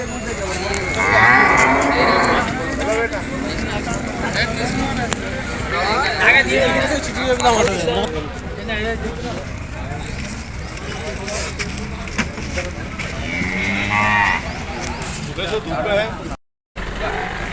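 Buffaloes moo repeatedly at a Sunday buffalo market in Erragadda, with several loud, drawn-out calls rising over constant crowd chatter, people talking nearby, and distant traffic.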